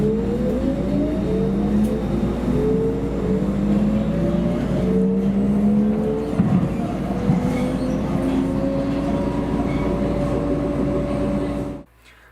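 Propulsion of a MAX Type 2 light rail car, a steady rising whine with layered tones that climbs in pitch as the car accelerates, fairly close for about twelve seconds before cutting off abruptly.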